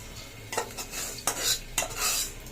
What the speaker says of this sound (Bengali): চাল আর ডাল ঢেলছি